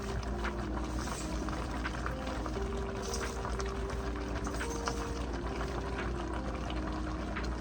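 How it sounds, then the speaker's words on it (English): Kale and sausage bean soup bubbling steadily in a pot on the stove, a continuous close simmering hiss with occasional soft gurgles and faint clinks, no voices. "It's boiling"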